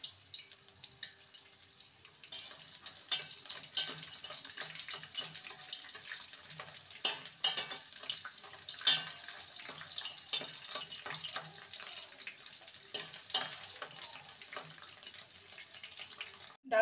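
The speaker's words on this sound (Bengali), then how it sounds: "মিডিয়াম ফ্লেমে আমি ছোলার ডালগুলো ভেজে নেব।" Chana dal frying in oil over a medium flame, giving a steady, close crackling hiss with scattered sharper pops throughout and no talking.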